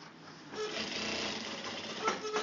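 A sewing machine stitching the back of a garment, running in a steady, close whirring drone with slight swells in loudness near the end.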